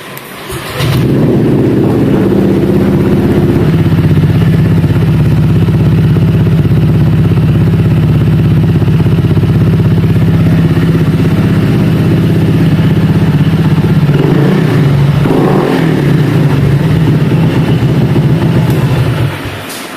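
Honda Vario 160 scooter fitted with an aftermarket exhaust, idling with a steady low, throaty rumble close up, then blipped into a rising rev near the end before settling back to idle.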